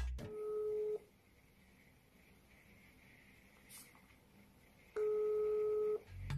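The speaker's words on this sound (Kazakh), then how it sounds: "Журналист көп созбай-ақ мән-жайды білу үшін Ниолеттаға телефон шалды." An outgoing telephone call rings out, two long steady electronic tones about four seconds apart, with quiet line hiss between them.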